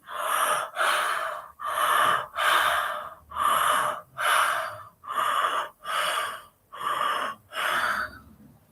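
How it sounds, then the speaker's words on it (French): Loud, drawn-out breaths come in a steady rhythm of about ten, each followed by a short pause. They fit people yawning together in a laughter yoga warm-up and sound close and clear, with no speech. "Donc on va bâiller et on va faire une grimace."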